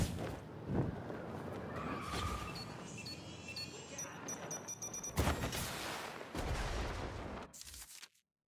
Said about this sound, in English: You can dodge gunfire while you're gliding?